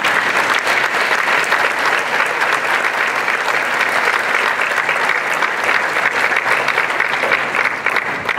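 Audience applause at a 2017 university medallion ceremony: a full, steady round of clapping from a large crowd, holding at an even loudness throughout with no break and no talking over it.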